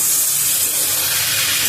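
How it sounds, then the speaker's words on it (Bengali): Flat beans frying in a pan for a winter vegetable curry give off a loud, close, continuous hissing sizzle that stays steady throughout. "সিমটা কি প্রায় ভাজা হয়ে গেছে?"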